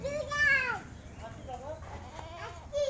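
A goat bleats loudly up close with a wavering cry, followed by fainter bleats and background chatter.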